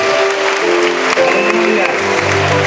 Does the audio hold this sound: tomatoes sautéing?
no